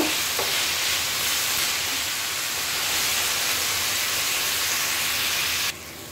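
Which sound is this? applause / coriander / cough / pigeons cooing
coriander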